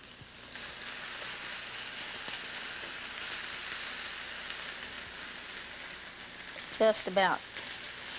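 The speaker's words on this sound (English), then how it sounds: "you want to lightly saute those on either side with maybe just a little bit of seasoning" Chicken breast sautéing in a pan gives a steady, even sizzle and fry throughout, close and moderate in level, with a voice speaking briefly near the end.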